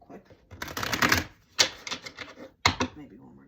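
A deck of tarot cards is shuffled by hand in several quick, crisp riffling bursts separated by brief pauses, close up and fairly quiet.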